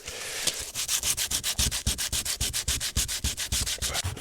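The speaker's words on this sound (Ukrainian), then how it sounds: "щось чухати цією наждачкою дуже довго" Sandpaper scrubs by hand across the painted metal of a rear door triangle on an Audi A4, a loud, close, rapid back-and-forth rasp in a steady rhythm with no talking.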